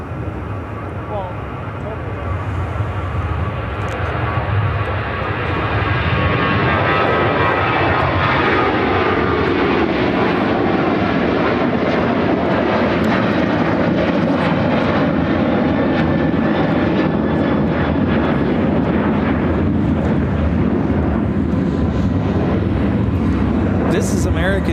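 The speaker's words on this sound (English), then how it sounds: "This is American Airlines 1109 taking off to Dallas Fort Worth on a 737-800." An American Airlines Boeing 737-800 takes off from Chicago O'Hare bound for Dallas Fort Worth, its loud, sustained engine roar building and holding steady for the full length, with some wind noise.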